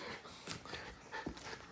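A puppy pants in quick, breathy bursts close by, with a few soft snuffles and faint whimpering sounds, no talking.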